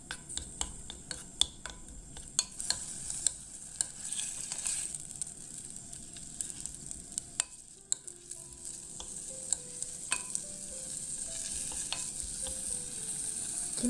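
Meat and garlic stir-fry in sesame oil inside an earthenware pot, with a continuous soft sizzle broken by frequent sharp scrapes and clicks of a utensil against the pot.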